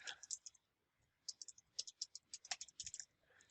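Computer mouse and keyboard clicks at a desk, a close, faint, rapid series of sharp clicks in uneven bursts after a brief lull.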